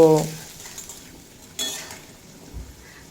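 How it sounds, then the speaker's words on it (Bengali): Peeled, washed potatoes being fried for pumpkin curry get scraped and stirred in a pan, with a metal clatter at the start and another around halfway, over a faint low sizzle. "আলুগুলো দুই থেকে তিন মিনিট মতো ভেজে নেব"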